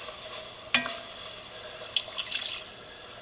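A wooden spoon stirring flour and onion in a cast iron pot for clam chowder, producing a faint hiss with one sharp scrape and then a short burst of soft scraping near the end, with no talking.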